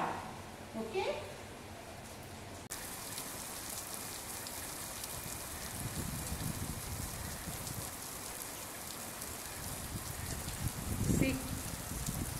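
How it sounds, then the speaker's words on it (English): Steady rain falls outdoors as a soft continuous hiss with scattered drops, fairly faint, with brief voices now and then. "See, it's raining like anything."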